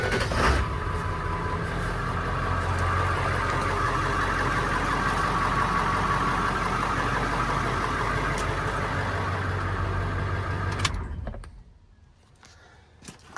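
A 7.3 diesel truck engine with 771k miles on its original injectors runs at a loud, steady, clattering idle up close, then cuts off abruptly, leaving near silence.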